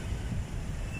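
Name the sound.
wind blowing in a mall parking lot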